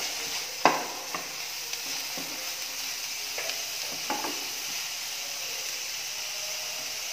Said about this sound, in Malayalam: പച്ചമുളക്, ഇഞ്ചി, വെളുത്തുള്ളി ചേർത്ത് കൊടുക്കാം. നന്നായി മിക്സ് ചെയ്ത് കൊടുക്കാം.